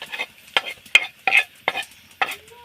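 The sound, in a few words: stirring grated coconut (serundeng) while dry-roasting in pan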